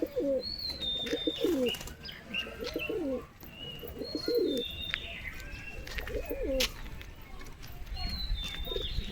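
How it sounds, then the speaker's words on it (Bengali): Madras pigeon cooing in repeated throaty phrases, close and clear, with other birds chirping and tweeting around it and brief wing flutters. "এই যে একটা ম্যাড্রাস পায়রা, দেখো কত সুন্দর।"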